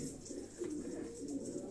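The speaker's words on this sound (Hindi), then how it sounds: "ये टोपी वाले 35 वाले कबूतर जो हम बोलते हैं" Pigeons, including a capped breed, coo softly with low, repeated throaty calls over a faint background hum.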